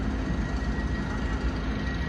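Steady low rumble of a long-distance train passing nearby in Poznań, Poland, with continuous broadband rail noise and no voices.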